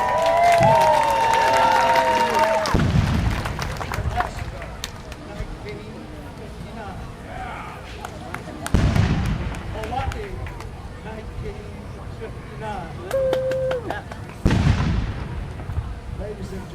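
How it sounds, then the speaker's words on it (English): Cannon salute at a Fourth of July ceremony, with three loud booming blasts spaced several seconds apart echoing over an outdoor crowd, the first arriving as a voice and music fade. "this concludes the cannon salute ceremony"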